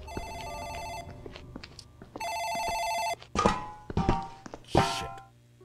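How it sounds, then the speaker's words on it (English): An office telephone rings in the horror game Morgue Detective with two sharp electronic ring bursts, followed by several loud thumps and knocks. "I think that's the phone in the office ringing."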